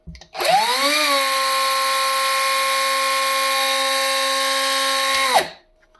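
A Leader cordless 76mm mini angle grinder whines up to speed, holds a steady high-pitched motor drone for about five seconds, then spins down and stops. No voices.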